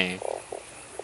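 A frog croaks in the horror video game Fran Bow: a few short, soft croaks spaced apart, faint and alone.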